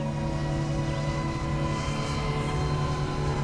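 An Afterburner 5 cinema FPV quadcopter passes overhead outdoors with a steady, high-pitched buzzing whine of spinning propellers, a constant droning tone holding at moderate volume.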